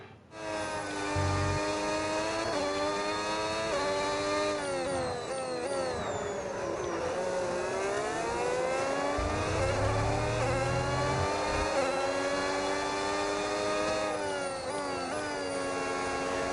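A Formula 1 car engine in the F1 26 video game on PS5 whines at high pitch throughout, rising and falling as it shifts through gears, loud and steady with no pauses.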